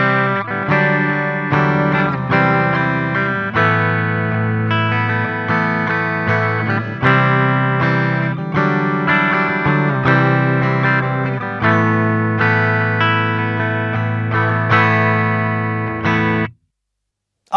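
Electric guitar plugged into a tube amplifier through a short cable plays loud, full, sustained chords and melodic lines, ringing out before stopping abruptly near the end.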